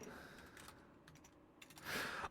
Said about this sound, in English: I need like a keyboard with bigger keys. I keep missing.